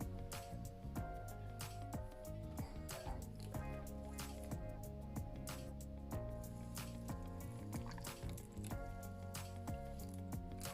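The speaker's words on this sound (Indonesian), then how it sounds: "Kemudian airnya kita masukkan juga." Water is poured into a mixture of grated coconut and coconut milk, giving soft wet squishing and trickling under steady background music, fairly faint and with no talking.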